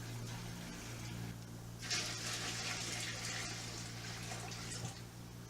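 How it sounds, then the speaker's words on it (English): Tap water gushes into a pitcher while 2 gallons are measured for homebrewing beer, a steady hiss and splash that swells as the flow opens, over a low electrical hum. "Just fill up this pitcher a couple times."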